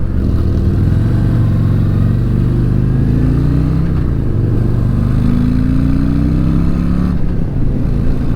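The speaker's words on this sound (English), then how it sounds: "Man, you've got so much power in this engine." A 2019 Harley-Davidson CVO Street Glide 117 motorcycle being ridden, its big V-twin engine droning loud and close with rising and falling pitch as it accelerates and shifts gears, and nobody talking.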